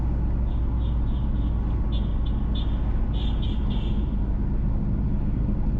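Car driving along a road in St. Catherine Parish, Jamaica, a steady low rumble of engine and tyres with constant road noise, a few faint chirps on top, no voices.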